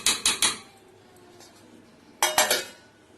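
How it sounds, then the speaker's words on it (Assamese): Metal clinks and clatters as a lid goes onto a pan of chuji batter, a quick cluster of three knocks, a short pause, then another bright burst of rattling, close and fairly loud. "মিলাই লৈ এতিয়া মই এখন ঢাকি থৈ দিম।"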